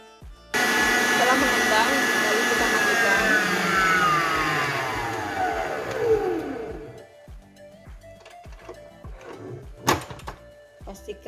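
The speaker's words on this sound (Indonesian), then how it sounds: "Lalu kita mixer putih telur tadi." An electric hand mixer whips egg whites for a Bangka-style tiger sponge cake, a loud steady motor whine that starts abruptly, holds, then drops in pitch as it slows and stops, followed by scattered bowl clinks.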